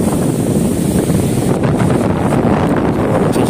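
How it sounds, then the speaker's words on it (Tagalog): Strong wind buffets the microphone by Manila Bay, a loud, constant rumbling roar with no pauses, carrying on throughout. "Medyo malakas yung hangin no?"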